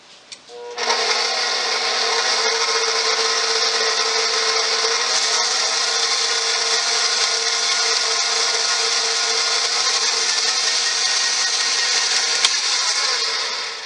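An electric mixer runs steadily to blend white sugar into melted butter for homemade cinnamon roll dough, a loud, continuous whirring motor drone that starts abruptly and holds for over ten seconds with no talking.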